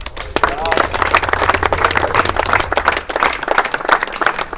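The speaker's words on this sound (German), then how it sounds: "darum einen riesen Applaus für unsere Schokipflüge" A crowd claps for a kart racing team at a turbo-kart race in Wohlen, dense rapid applause that is loud and continuous, with a voice talking over it.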